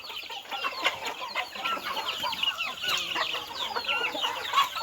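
Free-range chickens, native Thai hens and gamefowl chicks on a farm, cluck and chirp in a busy overlapping chorus, moderately close and continuous without talk.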